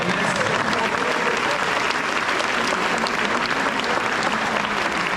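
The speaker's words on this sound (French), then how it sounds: "On les applaudit très fort." A crowd applauds young capoeira performers with dense, steady clapping that stays loud and close for the full stretch, with a few voices mixed in.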